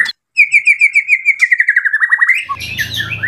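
White-rumped shama (murai batu), a competition-grade songbird, sings a rapid run of clear whistled notes close to the microphone, followed by a brief burst of harsher chattering with some low background noise.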